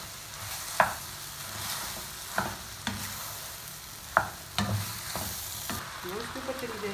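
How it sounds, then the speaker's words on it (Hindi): Macaroni with vegetables and chicken being stirred in a pan, with a soft steady sizzle broken by several sharp scraping knocks of the spoon against the pan, close and alone without talk. "अब आपने इसको मिक्स कर लेना है।"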